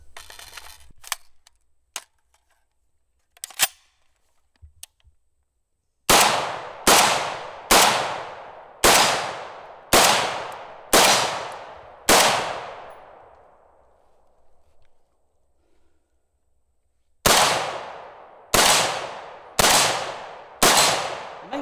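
An FN SCAR rifle fires a few scattered early shots, then two rapid strings of sharp, loud reports, each followed by a bright metallic ring from bullets striking a steel target, with a trailing ring fading in between.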